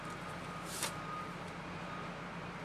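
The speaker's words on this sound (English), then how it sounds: "if you noticed that rumbling, beeping, hammering, skill sawing, doesn't stop." Low, steady rumble of construction machinery and trucks at a busy British Columbia building site, heard faintly from a distance with one brief higher blip partway through and no voices.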